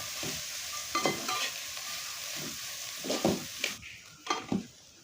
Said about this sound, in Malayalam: എല്ലാ ചേരുവയും ഒരുപോലെ നന്നായി മിക്സ് ചെയ്ത് യോജിപ്പിക്കണം